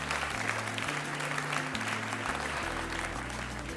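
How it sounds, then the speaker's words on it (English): Audience applause in a lecture hall, steady clapping throughout over a low sustained hum or tonal background. "Give them a round of applause."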